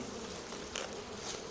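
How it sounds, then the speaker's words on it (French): Honeybees buzzing inside a hive in winter make a steady, dense droning hum throughout, close and fairly soft, with no voices. "Les abeilles restent à l'intérieur des ruches,"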